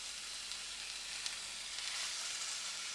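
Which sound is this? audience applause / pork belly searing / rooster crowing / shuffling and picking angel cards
pork belly searing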